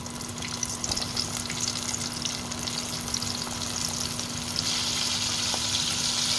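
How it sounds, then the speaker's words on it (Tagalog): Chicken wings deep fry in oil over medium heat, giving a steady close crackle and sizzle with faint bubbling, with no talk over it. "I-fry natin sa deep fry"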